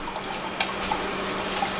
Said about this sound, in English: you just take this apart and you wash it with water